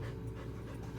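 A dog pants in a steady, rapid rhythm, close and fairly quiet, on a South Texas wheat farm during harvest, with no voices over it.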